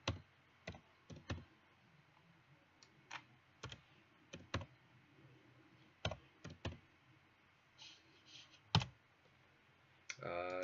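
Computer keyboard keys click in scattered bursts of sharp taps with quiet gaps between them, close and fairly crisp, ending in a denser flurry of typing.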